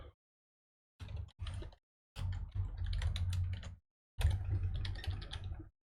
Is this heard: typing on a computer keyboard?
yes